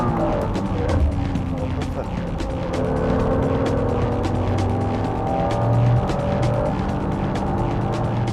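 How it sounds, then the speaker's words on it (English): A Honda NSX-R and a 330 horsepower European-spec Toyota Supra race through a corner on track, with engines howling and shifting pitch, close and loud throughout, while a commentator talks over the engine noise. "The NSX-R passes the 330 horsepower European spec Supra at the first"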